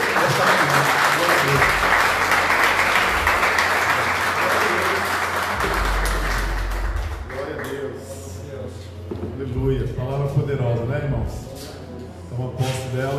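A church congregation claps steadily during a Sunday service, loud for several seconds before fading into a voice speaking over faint remaining claps.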